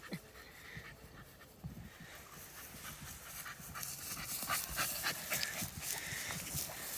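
A puppy pants steadily on a secluded countryside walk, quick rhythmic breaths close by and fairly quiet over faint outdoor ambience, with no talking.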